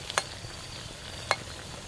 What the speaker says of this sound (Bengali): এই দেখো কি লাল লাল করে ভেজে নিচ্ছি